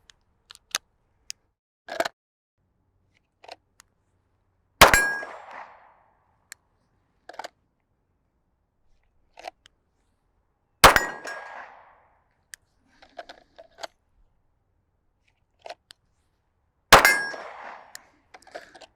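Pistol rounds striking steel targets at 25 to 50 yards ring out as three sharp, loud metallic clangs spaced about six seconds apart, each with a short ringing decay, amid faint scattered background ticks.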